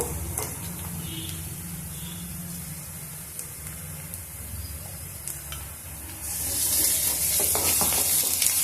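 Ginger garlic paste frying in a pan with onions for a brinjal chicken curry, a soft steady sizzle with light stirring scrapes that swells into louder hissing spatter near the end.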